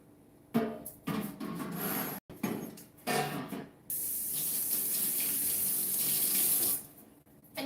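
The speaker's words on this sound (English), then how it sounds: "And then we can wash this tray." Tap water runs in a kitchen sink while a baking tray is washed: brief splashes and scrubbing bursts, then a steady, close, fairly loud stream lasting several seconds before it stops.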